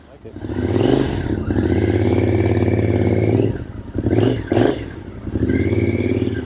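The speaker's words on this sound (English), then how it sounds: "It's a carbureted motorcycle, and we're going to take that hot rod for a ride." A 2006 Triumph Scrambler 900 carbureted 865cc parallel-twin engine with 270-degree crank idles with a deep, lumpy rumble close by, blipped into brief revs that rise and drop before settling back to idle.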